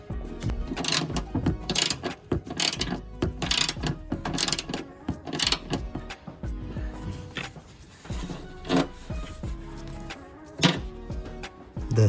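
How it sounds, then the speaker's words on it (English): A ratchet with a 10mm socket works bolts loose on a Smart Roadster, giving repeated close clicking bursts in an irregular rhythm with some metallic knocks, no talk. "In order to get it out, use 10mm socket."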